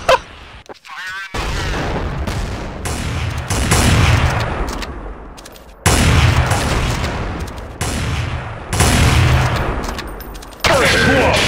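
Rapid gunfire from a Counter-Strike Source match on the Awp_Dust_Temple map: loud, broadband shot bursts and sustained volleys repeat throughout, with faint voices in the background.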